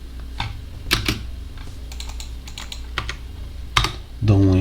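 Clicky computer keyboard typed on at close range in a sparse, uneven run of keystrokes, with a sharper Enter press near the end before a voice starts talking.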